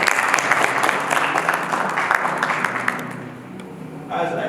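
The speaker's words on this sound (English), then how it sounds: "I would like the audience to give a big applause for all the speakers" An audience applauding panel speakers at a conference, a dense round of clapping from many hands that thins toward the end as a voice begins to come through.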